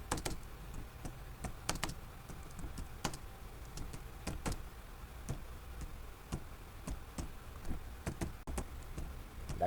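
Someone types on a computer keyboard, entering details into a form, with irregular close clicks and occasional sharper key strikes spread over several seconds against a quiet room, no talking.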